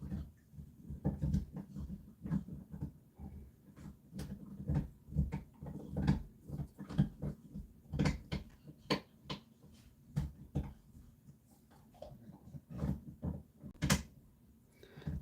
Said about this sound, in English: God, he's on a right chew, the dog over there